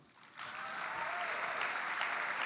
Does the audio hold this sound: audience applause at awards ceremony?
yes